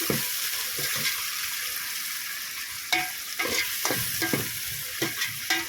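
Tomatoes fry in a pan on a gas stove under a constant sizzle, with a spoon stirring and scraping in several short bursts near the end.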